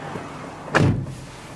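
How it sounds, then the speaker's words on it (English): A single solid thump of a 2012 Toyota Highlander SE 4WD door shutting at close range, brief and alone against a quiet background. "Go ahead and close the door."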